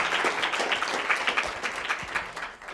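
Lecture audience applauding to welcome a guest speaker at a talk on animal welfare litigation, a steady, dense wash of many hands clapping that fades slightly toward the end.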